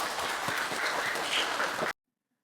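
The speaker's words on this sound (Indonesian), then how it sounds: "kita kasih tepuk tangan dulu nggak sih?" An audience at a talk event about a tourist village applauds, a dense, steady patter of clapping for about two seconds that cuts off abruptly into silence.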